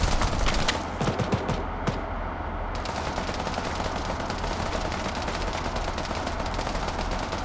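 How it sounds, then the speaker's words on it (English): Gunfire and tank fire in a video game battle. Dense rapid shots crackle at the start, then a steady loud roar of combat noise continues without letup. "I just got taken under fire by a tank."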